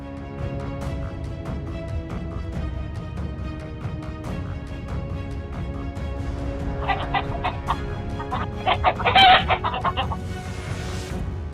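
Chickens cluck and squawk in a poultry area on a farm, a busy close chorus of overlapping calls over steady background noise that grows louder and more agitated toward the end.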